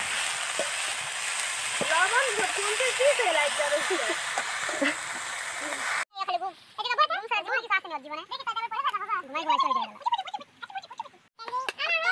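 Leafy greens frying in mustard oil with green chili and salt at an outdoor forest picnic, a steady sizzle for the first half before talking voices take over.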